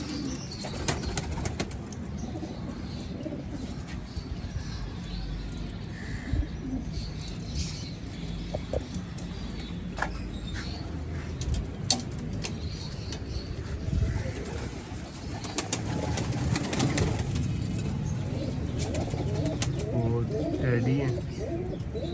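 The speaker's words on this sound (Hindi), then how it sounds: "अब आपको पिजन दिखाते हैं।" Pigeons in a zoo aviary coo and flap their wings amid steady background noise, with occasional chirps and a voice talking over them.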